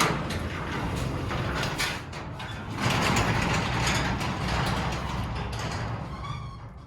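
A garage door winds steadily open, its ratcheting geared mechanism clattering and whirring without pause at close range, with no voices.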